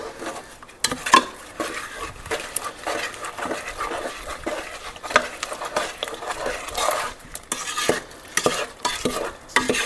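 Strawberry pie filling with red food coloring being mixed in a bowl, giving repeated wet scraping and clinking stirring strokes in an irregular rhythm, close and fairly loud with no voices.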